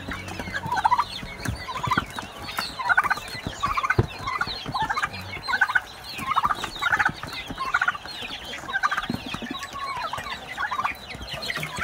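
Several farm turkeys gobble in repeated rippling bursts roughly every second, with chickens clucking nearby and soft rustling beneath.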